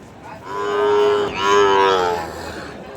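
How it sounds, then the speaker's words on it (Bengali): A white Sahiwal bull at a cattle market gives two long, loud, close moos in succession, with a steady crowd murmur in the background. "সাদা একটা শাহিওয়াল ষাঁড় গরু।"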